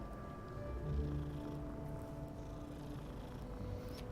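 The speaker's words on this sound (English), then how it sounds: "the cat changed into a different cat!" A cat in the game Hogwarts Legacy purrs in a low continuous rumble over a dense bed of game ambience and music, with no clear meows standing out.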